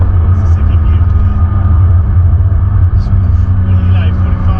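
A 2021 BMW M4 engine held in second gear gives a deep, steady, loud cabin rumble with a continuous low drone, heard from inside the car while someone speaks over it.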